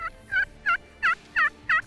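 A wild turkey gobbler gobbles in a quick series of five or six repeated bursts, fairly close and clear, with no talking.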